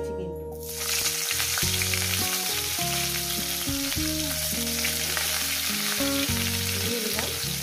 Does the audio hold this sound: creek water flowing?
no